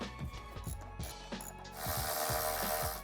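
A ratchet wrench clicks rapidly as bolts are loosened on a Mini Cooper S engine during alternator replacement, a close series of sharp pawl clicks in bursts, followed by a louder continuous whirring spin.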